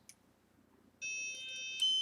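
An Excalibur car alarm remote starter: a faint tick, then a sustained electronic beep from mid-clip and a second, brighter beep near the end, fairly quiet with no talk.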